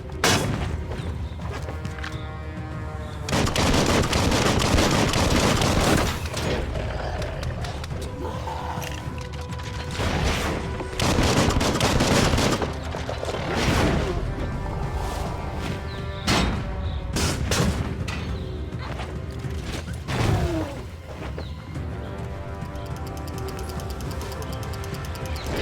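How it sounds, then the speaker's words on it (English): Gunfire and explosions from Biomutant on Xbox Series S: bursts of shots, booming blasts and mechanical clatter come in loud waves with brief lulls, building to dense volleys of firing. "Bullets everywhere."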